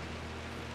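Steady hiss of rain falling in the video game Rise of the Tomb Raider, an even, dense wash of noise that runs unbroken through the short stretch with no voices.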